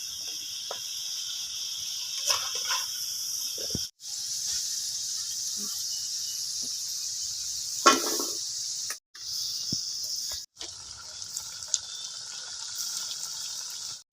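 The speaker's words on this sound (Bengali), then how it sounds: "আমি এইরকম করে সব নিমকিকে ভেজে নিব" Nimki, small fried dough snacks, bubbling in hot oil with a steady close hiss, broken by brief pauses and a few soft clinks and stirs.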